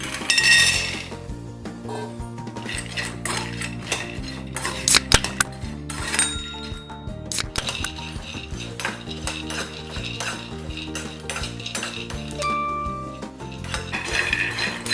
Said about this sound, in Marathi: आता आपण शेंगदाणे भाजून घेणार आहोत